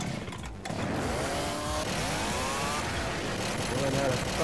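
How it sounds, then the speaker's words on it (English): A chainsaw runs in the video game Left 4 Dead 2, a sustained buzzing engine with rising and falling revs under players' excited chatter and game noise. "Chainsaw Wars, huh?"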